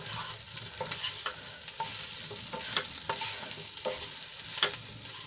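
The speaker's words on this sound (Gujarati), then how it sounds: "ફરીથી એકવાર આપણે સરસ રીતે મિક્સ કરી લઈશું" A spoon stirs a leftover khichdi muthiya mixture in a pan with coriander, making soft scraping strokes at an irregular rhythm over a faint sizzle, close and moderately quiet with no voices.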